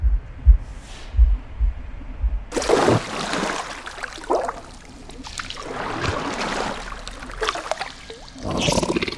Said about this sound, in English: a deafening heartbeat